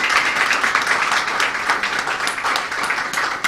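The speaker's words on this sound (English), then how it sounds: "Let's give him a bigger round of applause." An audience at the launch of the Think Equal education programme in Belize breaks into steady, dense applause. The clapping stays even and loud throughout, with no voices over it.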